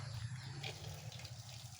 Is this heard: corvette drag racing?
no